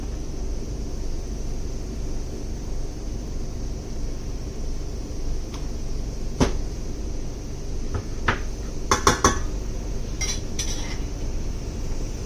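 Raw chicken mixed with salt in a bowl for a no-oil Nagaland-style chicken curry: a quiet room hum, then a handful of scattered clinks and taps of a utensil against the bowl in the second half, with no speech.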